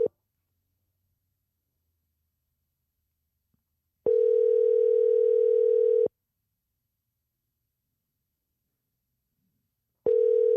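Ringback tone of an unanswered telephone call: a steady electronic tone in two-second bursts separated by about four seconds of silence, with two full rings and the start of a third, heard clearly down the line with no voices.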